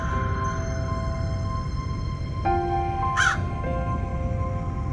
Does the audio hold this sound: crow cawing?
yes